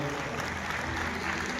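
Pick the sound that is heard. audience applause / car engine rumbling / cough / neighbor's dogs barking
audience applause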